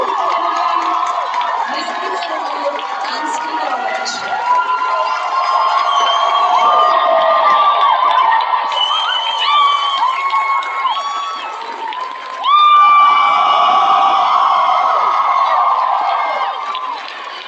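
A convention crowd at Megacon Orlando cheers, whoops and applauds loudly as the Scream film cast walks onstage, a sustained roar of many voices that swells even louder near the end.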